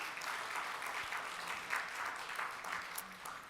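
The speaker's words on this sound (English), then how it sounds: "Let's give them a round of applause for their birthdays." Rotary club members applaud fellow Rotarians' birthdays at a meeting, a steady round of many hands clapping at moderate volume, with a brief murmur of voices faintly underneath.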